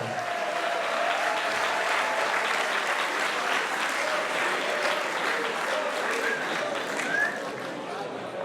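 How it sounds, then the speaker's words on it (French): Sustained applause from a crowd at an awards ceremony honoring a racing driver, steady and loud throughout, with a few scattered voices and whoops rising out of the clapping. "Merci d'applaudir le pilote de Villeurbanne, Loïc Brissot."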